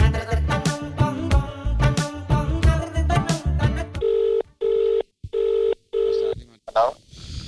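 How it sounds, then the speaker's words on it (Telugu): A quick electronic tune plays, then a phone's ringback tone repeats four or five times in steady, evenly spaced beeps. "ఇంకో నెంబర్కి నేను ఫోన్ చేద్దాం."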